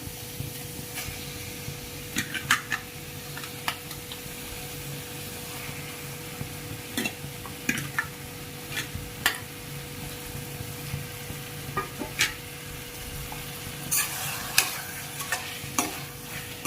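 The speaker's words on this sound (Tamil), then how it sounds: "அப்பப்போ நீங்கள் எடுத்து எடுத்து கொஞ்சம் கொஞ்சம் கிளறி விட்டுட்டே இருங்க" Masala for pepper chicken fry being stirred in a frying pan: a constant close sizzle punctuated by irregular clicks and scrapes of the spatula against the metal.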